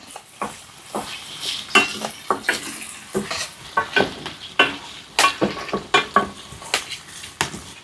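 Potatoes frying in a pan for a Kerala-style potato curry, with steady sizzling under repeated scraping and clinking strokes of a spoon stirring them, close and clear, no talking.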